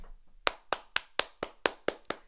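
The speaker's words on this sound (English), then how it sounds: "clap" Eight sharp hand claps in a steady, even rhythm, close and fairly loud, with no voices.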